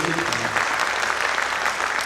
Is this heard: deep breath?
no